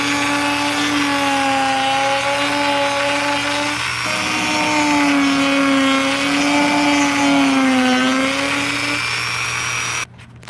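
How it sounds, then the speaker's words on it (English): A small rotary tool with a half-inch sanding drum whines steadily at high speed grinding plastic, its pitch dipping slightly under load, then cuts off abruptly near the end. "Just use a little 1/2 inch sanding drum that just kind of melts it away."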